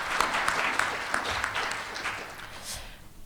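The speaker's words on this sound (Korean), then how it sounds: "큰 박수로 청해 듣겠습니다." Applause fills a Korean bio-health IT symposium hall as an audience welcomes a speaker, steady dense clapping that holds for a few seconds and then gradually thins out.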